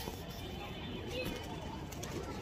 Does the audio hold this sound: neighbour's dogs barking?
no